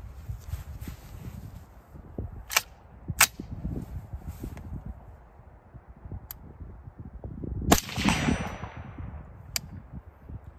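Suppressed gunshot fired outdoors from a Sabre 14.5 rifle fitted with a Polonium K suppressor; a few sharp reports stand out over steady background noise, the loudest near the end with a brief trailing echo.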